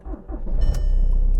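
A cold Seat Ibiza 2.0 TDI common-rail diesel starts up close by, a short cranking churn that catches within a second and settles into a loud, steady low rumble at idle.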